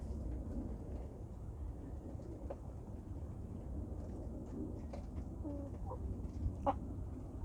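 Chickens clucking in a backyard flock, a few short calls rising above a steady low rumble of background noise, with one clearer burst of clucks near the end.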